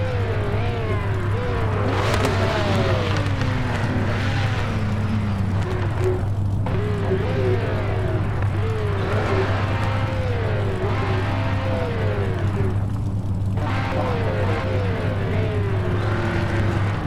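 Panoz LMP1 race car engine in a motor racing video game at Sebring, heard from behind the car: a continuous engine drone with repeated rising and falling pitch sweeps through gear changes over a steady low hum.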